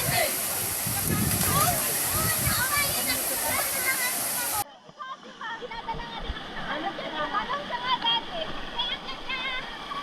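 Monkeys leap and splash into water together, with loud rushing and sloshing water for the first half, then scattered lighter splashes and drips after a sudden drop in level.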